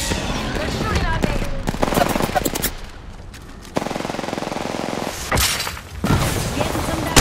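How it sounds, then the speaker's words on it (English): Automatic weapon fire in Apex Legends, long loud rattling bursts of rapid shots broken by short gaps, with a heavy thump and a brief shatter amid the chaos; a voice speaks briefly underneath. "They're shooting at me."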